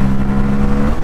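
A Bajaj Pulsar N160 motorcycle, a 2023 E20 model with a 160cc engine, runs close and loud with a steady droning engine hum that holds at high revs without a break.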